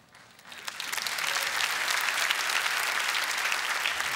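Audience applause after a lecture, rising from quiet in the first half second into a steady, dense wash of clapping from a large crowd that holds loud and even to the end.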